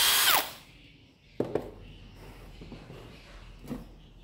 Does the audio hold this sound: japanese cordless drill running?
yes